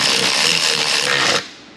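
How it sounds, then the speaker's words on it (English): Rapid ratcheting clicks from a wrench snugging the starter bolts on a 2012 Chevy Avalanche 5.3, a dense steady burst for about a second and a half, close and loud, then stopping abruptly. "both starter bolts clicked"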